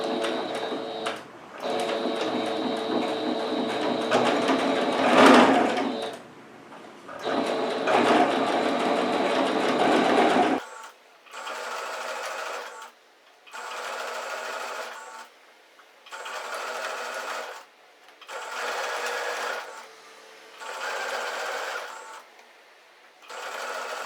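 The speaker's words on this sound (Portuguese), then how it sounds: "a gente vai passar então uma costura aqui, rentezinho" A sewing machine stitches white trim close along the edge of a dish towel. It starts with a long continuous run, then settles into a series of short, even bursts separated by brief pauses, close and clear with no talking.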